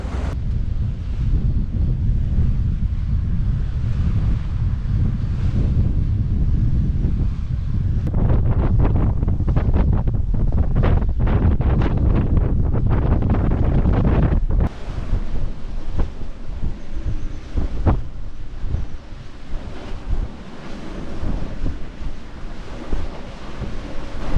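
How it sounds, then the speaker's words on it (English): Strong wind of about 25 knots buffets a sailing boat at sea with reefed sails, a constant loud roar of gusts over rushing water and wave wash with no voices. "got 25 knots of wind, 2 reefs in the sails, and we're doing 6 or 7 knots."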